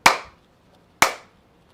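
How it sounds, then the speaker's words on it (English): Two sharp hand claps about a second apart, loud and close, each ringing out briefly into a quiet room with no voices. "Clapping clears the vibration."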